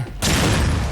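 An explosion in the video game The Evil Within erupts after a brief lull, a sudden loud blast that settles into a dense, roaring rumble sustained to the end.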